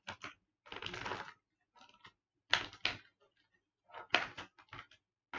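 Nail clippers cut through plastic toy packaging for a McFarlane Toys Raiden figure, producing close, sharp clicks and crinkly crunches in short irregular bursts separated by silence.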